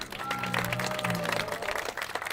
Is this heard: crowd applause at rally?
yes